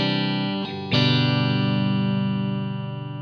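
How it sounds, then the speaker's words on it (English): A Fender Stratocaster electric guitar played completely dry, with no effects or spring reverb, rings out a sustained chord that is briefly re-struck and then left to decay cleanly on its own. "Now I'm just playing a Strat, and I've got amplitude pulled up. I've just got a basic kind of a Fender sound going on."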